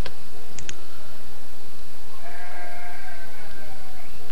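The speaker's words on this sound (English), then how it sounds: "there's our sheep for the moment" Sheep in the medieval town-building game Banished bleat twice in quick succession over steady ambient game noise, with faint clicks and a soft tonal wash behind.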